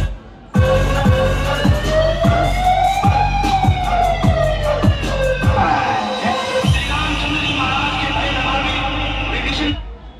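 Police vehicle siren wailing loudly and continuously in a crowded street during a kawad yatra DJ procession, its rising and falling tone over heavy bass music and crowd noise.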